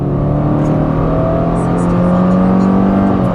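A 2024 Subaru Crosstrek 2.5 Limited pulls hard from a brake-torque launch, its engine note steady and loud from inside the cabin, a sustained droning whir with no talking.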